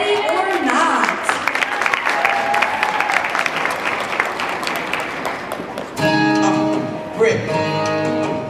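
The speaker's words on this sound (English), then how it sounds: "give a big round of applause for Jonestown Dance Studio," An audience applauds at a dance showcase, clapping and crowd noise under an announcer's voice, then music begins partway through while the cheering continues.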